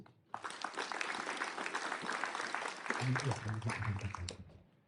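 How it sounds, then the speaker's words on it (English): Audience at a mayoral candidates forum breaking into sustained applause that starts abruptly, holds steady, swells slightly and then fades, with a voice briefly heard over the clapping. "Round of applause."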